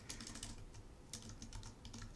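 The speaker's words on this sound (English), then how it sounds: "So in each of these cells, I'm typing the text, hitting enter" Faint, steady typing on a computer keyboard as text is entered into Excel spreadsheet cells, a quick irregular patter of soft key clicks with no voices.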